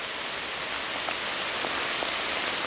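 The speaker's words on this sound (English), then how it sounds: "it's been pouring down rain for about 15 minutes now, 15-20 minutes, and thundering" Heavy rain pours down steadily during a thunderstorm, a dense, continuous hiss of drops hitting the ground with a few faint individual patters standing out, no voices present.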